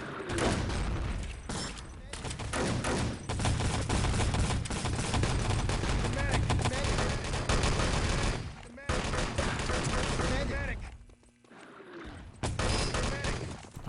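Rapid automatic and single-shot gunfire in the online shooter Enemy Territory during a grand-final match on the Malibu map, with dense continuous bursts and brief pauses, under a caster talking.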